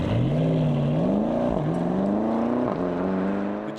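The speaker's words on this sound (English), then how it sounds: "Nail the gas and this thing takes off in a hurry." A 2020 Porsche Panamera GTS Sport Turismo accelerates hard, its engine climbing in pitch through two quick upshifts with brief dips, a loud, continuous, close roar with no talking.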